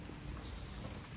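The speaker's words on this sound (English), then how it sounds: "as it's starting to downpour on me here" Steady rain pours down outdoors beside a car as the downpour begins, a dense continuous hiss with a low rumble underneath and no voices.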